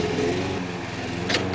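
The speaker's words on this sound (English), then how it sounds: "I apologize for the mowing in the background" A lawn mower runs outdoors in the background, giving a steady, moderately loud engine drone that holds through the whole short stretch with no one talking.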